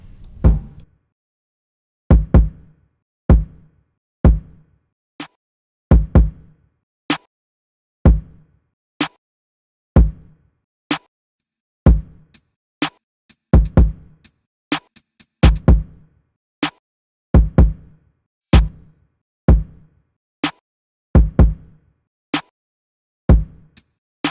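Punchy low kick drum hits repeating in a steady hip hop beat pattern in Logic Pro X, with sharp clicky accents between them, dry and prominent with no voices.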